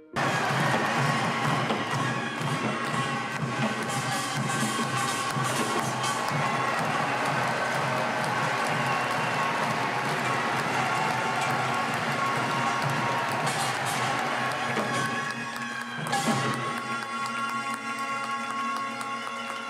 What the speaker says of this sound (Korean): 곳곳에서 박수 소리가 터져 나옵니다